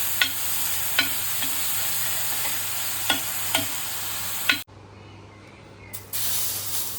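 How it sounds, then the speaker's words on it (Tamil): Onion, green chili and ginger sauté on a flat dosa griddle with a loud, steady sizzle and a few sharp clicks from a spatula. Partway through the sizzle suddenly cuts out, then briefly swells again. "இந்த மாதிரி தோசைக்கல்லிலே போட்டு வெங்காயம், பச்சை மிளகாய், இஞ்சி எல்லாத்தையும் வதக்கிங்க"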